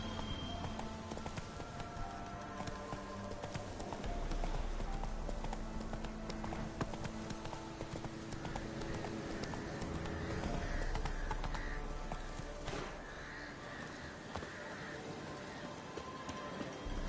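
A horse gallops in The Witcher 3 video game, with continuous loud hoofbeats blended into dense rain-like outdoor game ambience that runs steadily throughout.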